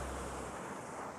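A steady, broadband roar of rushing water fills the air at close range in front of a waterfall on the Watkin Path on Snowdon, constant and unbroken with no voices.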